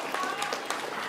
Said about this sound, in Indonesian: Adik-adik boleh kita berikan tepuk tangan, berikan semangat untuk grup A, B dan juga C.